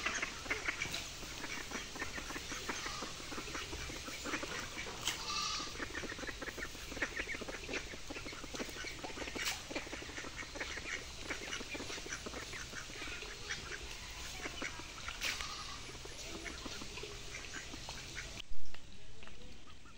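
Ducks raised in a confined pen, kept on water, keep up a dense, busy stream of quacks and clucking calls that runs steadily throughout. No one speaks, and one sharper knock stands out near the end.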